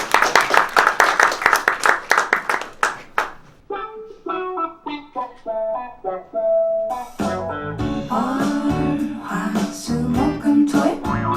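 A concert audience breaks into a burst of rhythmic clapping at the start, which fades out as piano notes and then a fuller band begin to play.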